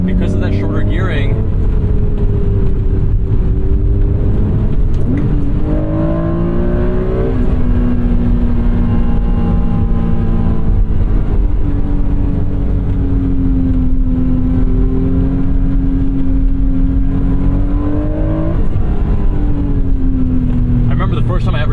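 A 1991 Acura NSX with shorter gearing accelerates hard, its engine note rising and dropping through gear changes in a loud, continuous drone.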